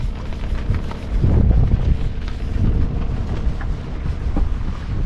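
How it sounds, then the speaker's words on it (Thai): Gusting wind and heavy low rumble as rain sets in over a river during a storm, a loud surging swell in the middle and steady broadband noise throughout, no voices. "ฝนตกแล้วครับท่านผู้ชมนะครับ"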